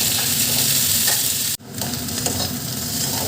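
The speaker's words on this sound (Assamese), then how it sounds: "এতিয়া মাছৰুমখিনি ঢালি দিম" Mushrooms fry with onion and garlic in a hot pan, giving a loud, continuous sizzle that cuts out for a moment midway and then resumes as stirring continues.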